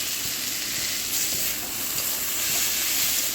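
Vegetables fry in a pan for a dried fish curry, a dense, steady sizzle with light crackling close up, continuous and alone.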